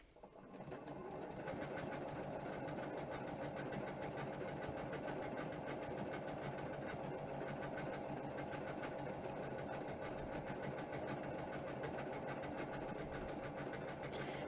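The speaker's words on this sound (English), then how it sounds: "I like to start with the needle in, my foot down, and then we're just going to start stitching" A sewing machine runs continuously, stitching along a length of fabric for a Christmas cracker, its fast even whir loud and close from start to finish with no pauses.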